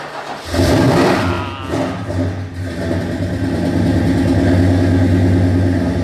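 An old car engine catching after a push-start, firing up abruptly and settling into a loud, rough, steady running idle, close by.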